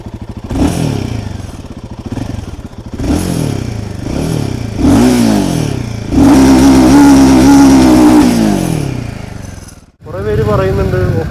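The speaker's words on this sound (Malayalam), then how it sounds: "ഹിമാലയൻ ഫോർ ഫിഫ്റ്റിയുടെ എക്സോസ് നോട്ടൊന്ന് നോക്കാം" A Royal Enfield Himalayan 450 motorcycle idles close by as its exhaust is revved several times, each blip rising and falling in pitch, with one longer sustained rev and a brief drop to near silence before the engine picks up again.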